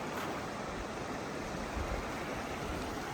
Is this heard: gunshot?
no